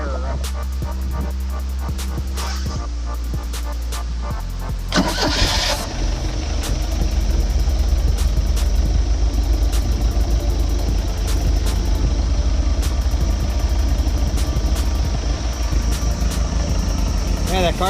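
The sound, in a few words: Mercruiser boat engine starting and idling after carburetor rebuild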